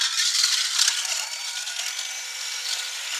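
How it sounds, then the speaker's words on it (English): Eggs being whisked briskly in a bowl for homemade Mickey-shaped waffles, a steady, close, continuous scraping rattle that carries on for several seconds, with no voices. "Now you're going to want to whisk this until it's all white and foamy"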